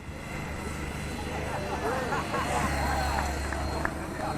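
An RC 700-size helicopter flies 3D acrobatics outdoors, its rotor and motor whining steadily with rising and falling pitch sweeps at moderate distance. A background voice is heard now and then.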